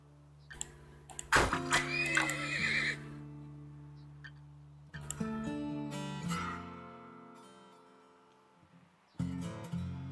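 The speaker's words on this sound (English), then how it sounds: "Horse." A horse neighs in the video game Turnmoil, one clear whinny near the start followed by soft game chimes and tones, with no talking.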